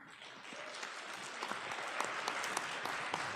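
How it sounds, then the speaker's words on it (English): Polite audience applause at a morning show candidate event, a soft, fairly distant patter of many hands clapping steadily for a few seconds with no talk. "so some polite applause there for that response"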